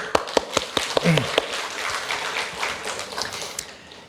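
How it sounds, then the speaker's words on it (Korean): A church congregation at a Bible lecture claps, with a few sharp early claps building into a spread of scattered applause that tapers off toward the end, moderately loud. "박수"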